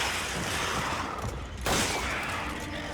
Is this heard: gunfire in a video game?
yes